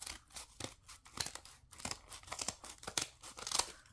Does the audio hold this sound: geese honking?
no